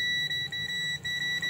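A multimeter continuity buzzer sounds while testing an LED TV circuit board, a steady high-pitched tone broken by several brief dropouts, fairly close and alone.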